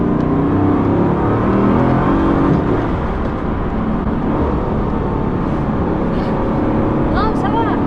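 A Bugatti Chiron, a very heavy 1,500-horsepower supercar, roars under acceleration with a loud, continuous engine drone and rumble that stays strong and close throughout, while wind and road noise blend in underneath.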